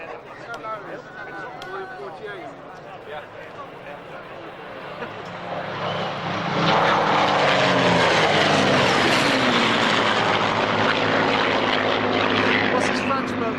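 Four Spitfires with Merlin engines pass at an airshow, a propeller drone building from distant to a loud, close roar as they fly by, with commentary over it.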